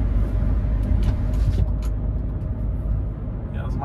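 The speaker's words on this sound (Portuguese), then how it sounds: "Impressionante como esse carro roda macio." A Hyundai HB20 1.6 automatic driving through São Paulo at night, heard from inside as a steady low engine and road rumble with faint higher noises on top.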